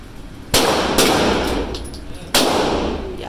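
Gunshots crack at a shooting range, three loud, sharp reports with ringing tails spaced unevenly over a few seconds, heard close by over background noise.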